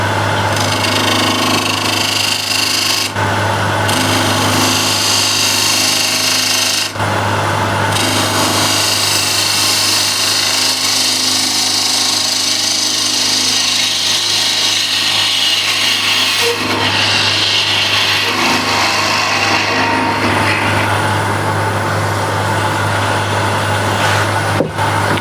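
A spindle gouge cuts very hard wood spinning on a woodturning lathe, producing a loud, steady, rough scraping hum close by that runs throughout with a few brief dips, and no talking.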